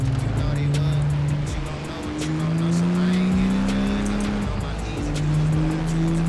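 A Lamborghini Aventador drag car in Forza Horizon 4, its engine droning and shifting in pitch as it drives, with tire noise and a voice talking over it.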